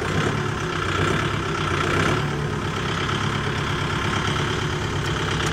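A Kubota MU5502 four-wheel-drive tractor engine runs at a fixed 2500 RPM, producing a steady, loud diesel drone with an even low hum throughout.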